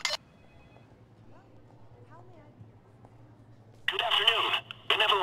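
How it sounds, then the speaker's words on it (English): A telephone rings in the bank heist video game Payday, two loud electronic ring bursts arriving near the end after a low steady hum and faint game sounds. "Someone answer the phone."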